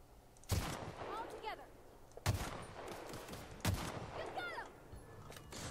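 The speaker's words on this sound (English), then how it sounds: "this is a hunting rifle after all" Three loud hunting rifle shots in The Outer Worlds crack out a second or two apart, each followed by a ringing tail, with a voice talking faintly between them.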